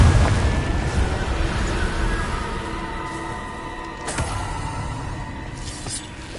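The Confringo fiery blast spell in Hogwarts Legacy bursts with a loud, deep boom and a long rumbling decay, followed by a couple of sharper cracks.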